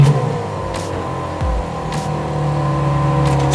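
A Porsche 911 SC rally car in the Coupe des Alpes idles with a steady low engine drone, then starts and pulls away as the engine note rises and holds loud and close.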